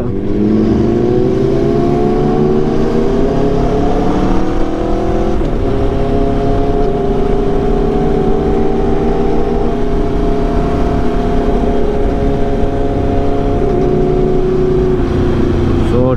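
A vehicle accelerates steadily, its engine note climbing in smooth rising harmonics, loud and close for a long stretch with no talking over it.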